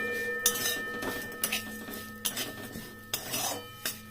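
Flattened rice fries in a little oil mixed with ghee in a pan, with a spatula scraping and clinking against the metal in repeated strokes every half second or so, close and fairly soft.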